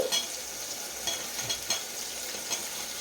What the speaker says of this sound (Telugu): ఇప్పుడు ఇందులో సన్నగా తరుక్కున్నటువంటి ఉల్లిపాయలు రెండింటిని